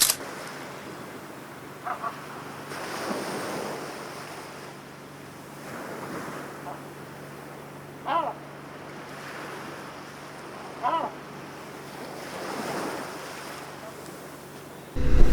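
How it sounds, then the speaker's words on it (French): Waves wash onto the sandy beach of Plage des Saumonards on Île d'Oléron, rolling surges rising and falling every few seconds under wind rumbling against the microphone. "On va se détendre maintenant sur une des belles plages de l'île d'Oléron, la plage des Saumonards."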